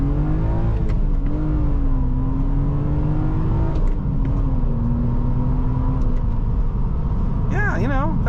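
A 1999 BMW M Coupe accelerates with a steady, droning engine note that rises and falls gently under a constant road roar, then warbles sharply as revs swing near the end.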